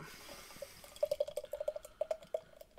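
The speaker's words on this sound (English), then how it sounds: "Let's go pour the beer in." Chocolate caramel cookie stout poured into a stemmed Teku glass, a soft, close run of gurgling and dripping glugs that turns brisk and irregular partway through, with no talk.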